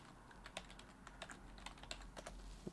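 Faint, quick typing on a computer keyboard, a run of light irregular key clicks in a quiet room.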